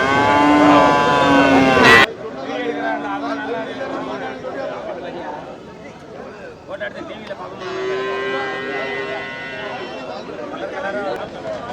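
Cattle low at the Melur cattle market, one long close moo opening the scene and further bellows rising later amid steady crowd chatter and people talking nearby.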